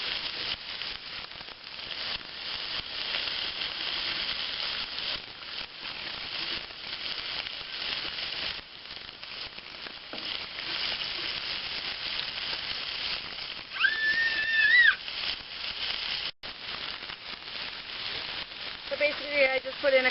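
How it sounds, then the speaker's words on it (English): Morels and vegetables sizzle steadily in an electric wok, a continuous close frying hiss throughout with occasional brief clinks near the end. "I just put in a couple handfuls of the morels and let them saute up with the vegetables"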